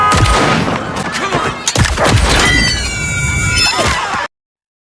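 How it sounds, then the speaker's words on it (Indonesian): Gunfire from the film The Moth as a character shoots down enemies, a loud dense burst of shots layered with shouting and chaotic action effects, ending abruptly. "Jen yang mengetahui hal itu langsung menembak mereka tanpa ampun."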